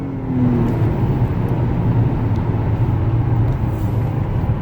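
Steady engine drone from inside a moving 2011 Nissan Maxima SV, a continuous loud rumble with a faint whine riding on top throughout.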